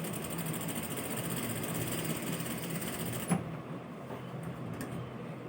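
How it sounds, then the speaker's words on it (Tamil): A sewing machine stitches fabric with a steady, fast mechanical whir and rattle, close up, that stops abruptly with a click partway through, leaving quiet room tone. "இப்போ பாருங்கள், ஸ்டிச் நான் வந்து உங்களுக்கு தைச்சி காட்டுறேன்."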